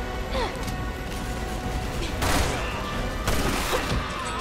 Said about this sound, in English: Shot him with a gun.